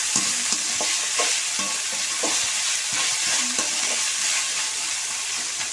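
Green and orange vegetables sautéing in a pan for pasta, a steady sizzle running throughout with repeated stirring scrapes and clinks at an irregular rhythm, close and fairly loud, with no talking.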